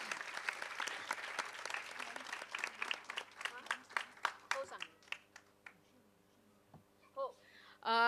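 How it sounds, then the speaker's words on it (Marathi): Parents are applauded by an audience at a school program with a burst of clear, fairly close handclapping that thins out and fades over several seconds, followed by brief stray sounds. "त्यामुळे पालकांचे खरंच टाळ्या वाजवून कौतुक."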